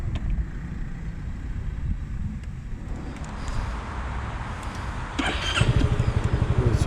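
A Honda Forza 300 maxi scooter engine turns over and catches, its low rumble steady beneath wind buffeting on the microphone, then a brief whirring rise as it starts near the end.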